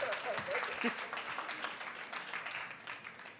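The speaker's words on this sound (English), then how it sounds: "give a round of applause." Audience applause at a nonprofit technology fundraising panel session, moderate steady clapping from a mid-sized crowd, with a voice briefly speaking over the start.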